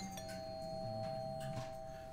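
A doorbell in the horror video game Fears to Fathom: Home Alone gives a sustained electronic ding tone that holds steadily over a low, murky ambient background.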